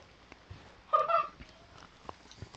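Kittens give a short, faint meow, a brief cat cry in an otherwise quiet room with a few small clicks and taps around it.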